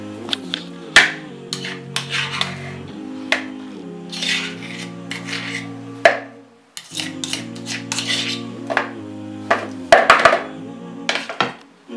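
Stone mortar and pestle grinding lentils and chicken for shami kabab, with repeated close scraping, knocking and rasping strokes in an uneven rhythm, loud and near, without talk.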